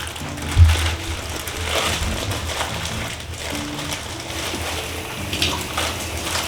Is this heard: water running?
yes